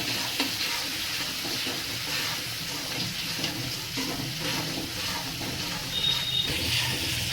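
Finely chopped tomato cooks with salt in a pan, giving a steady close sizzle that runs throughout with stirring scrapes and no voices.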